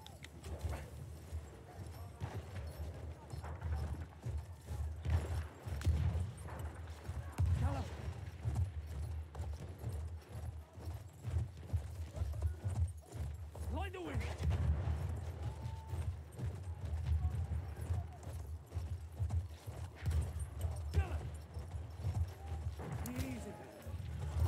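A horse gallops with steady clip-clop hoofbeats in the video game Battlefield, close and continuous, with a voice urging it on and occasional whinnies mixed in.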